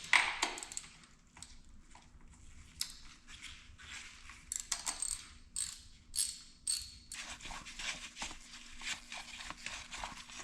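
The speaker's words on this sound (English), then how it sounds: "we will loosen up the drain bolt, get it all nice and loose," A ratchet clicks rapidly in short runs as it loosens the oil drain bolt on a BMW 325xi, metallic and close, with brief pauses between strokes and a faint steady hum beneath.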